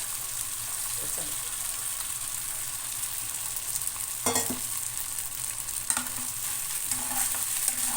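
Sabudana khichdi with salt and peanuts being stirred and sautéed in a pan, a low steady sizzle with occasional scraping strokes of a spoon, fairly close and continuous, with no talking.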